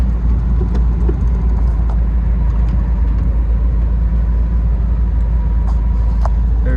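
A 1958 VW Karmann convertible cruising on a country road in Texas, heard as a steady, loud low engine drone with road rumble and no talking.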